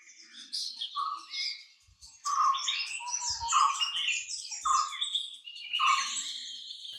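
Pied bush chat calling in the Munnar hills of the Western Ghats, a run of clear, repeated chirping notes in several bursts, fairly close and with no talk over them.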